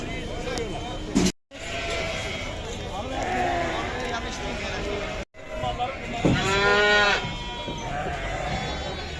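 Goats bleat loudly and repeatedly amid a busy, noisy crowd at a livestock market in Ödemiş, Turkey, with people talking throughout.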